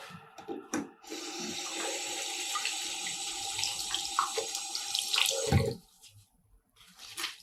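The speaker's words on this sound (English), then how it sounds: "I've got this piece of cotton that I'm going to go and wet right now. And then squeeze the water out." Water from a tap runs steadily over a cotton cloth being wetted in a sink and then wrung out for fusible interfacing. The flow is close and continuous for about five seconds, then stops abruptly, leaving faint drips and handling noises.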